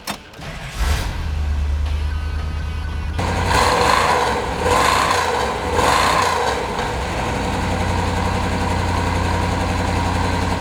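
A 1971 Plymouth Cuda's 383 V8 fires and settles into a loud, steady idle heard up close for about ten seconds, with a lumpy low rumble and no talking.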